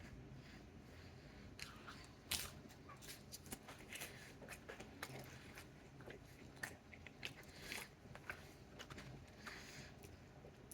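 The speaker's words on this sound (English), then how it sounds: "let's try these steak nachos as well" Someone bites into and chews Subway's Doritos steak nachos up close, sharp crunchy bites and crackling chips repeating irregularly over a quiet, soft chewing background.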